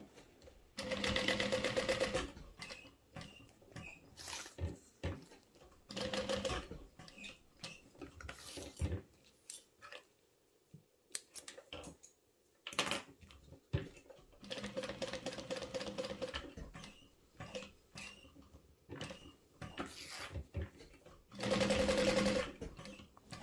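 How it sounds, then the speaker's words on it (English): A sewing machine stitches a rectangle on a fabric passport cover in repeated short bursts of fast mechanical whirring, separated by quiet pauses and small clicks. "now I'm going to do a rectangle stitch to secure this to the exterior"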